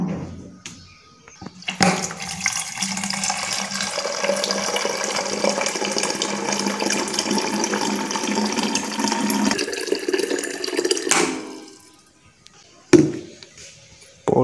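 Water pours steadily into a container for about nine seconds, a loud, continuous rush that stops abruptly, followed by a brief knock.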